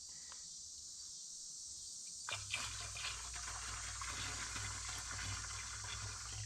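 Liquid 2,4-D and Cornerstone herbicide pours into a sprayer tank outdoors, a steady splashing fill that begins abruptly and continues evenly over a constant background of crickets.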